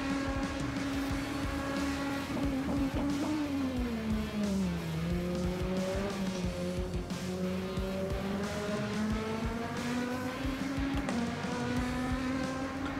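Race car engine from a racing video game held at a steady high-revving drone that dips and climbs in pitch through gear changes, loud and continuous with a hint of tire squeal.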